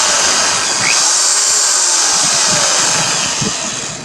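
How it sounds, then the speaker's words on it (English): An electric drill bores through a lawn mower deck with a steady, loud, high whine. Low grinding rumbles come through unevenly as the bit bites into the metal. "And now it's time to start drilling."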